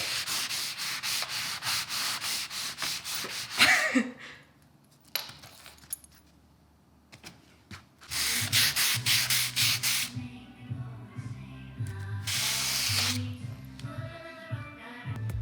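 Sanding during home renovation, with bursts of rapid rhythmic scraping strokes that stop for quiet gaps and then resume, close and fairly loud, with some faint clinks between the passes.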